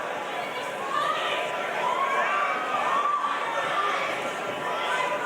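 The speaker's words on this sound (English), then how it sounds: "And the crowd is involved. It's a huge crowd here." A huge crowd fills the Thunderdome during a fight, its steady roar of chatter and cheering holding loud and constant throughout, with occasional swells and shouts rising from the mass of voices.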